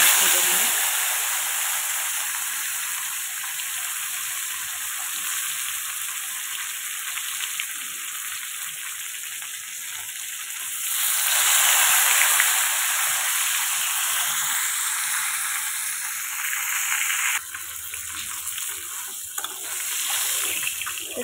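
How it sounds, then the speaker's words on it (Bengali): Koi fish fry in hot mustard oil, a long, steady hissing sizzle that swells midway, with voices intermittently in the background. "তেল গরম হয়ে গেছে, চলো একটা একটা করে মাছ ভেজে নিই।"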